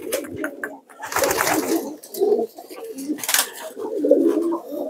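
Domestic homing pigeons of the Indonesian giringan type, from Pekalongan and Temanggung, coo repeatedly in close, throaty bursts at a steady rhythm, with faint background noise and no talk.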